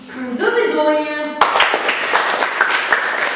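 Studio audience applause on a television quiz show, a burst of dense clapping that starts abruptly after a sustained musical tone and carries on loud and steady to the end.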